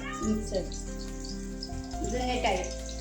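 Chopped onion sizzling and crackling in hot oil as tempering for a prawn curry, a steady close frying hiss that swells and fades, with voices talking over it.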